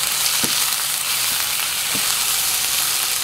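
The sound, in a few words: spices sizzling in a multi-function cooker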